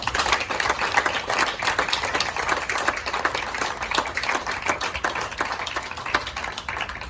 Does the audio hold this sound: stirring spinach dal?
no